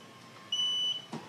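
An Osaki Pinnacle massage chair gives one clear, steady electronic beep lasting about half a second in a quiet room, followed by a faint soft bump.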